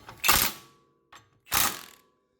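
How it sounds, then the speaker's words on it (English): A ratchet tightens the bottom shock bolt on a Honda CR-V during a front CV axle replacement, giving two short, close bursts of ratcheting with a brief tap between them and no talk. "And tighten down the bottom shock bolt."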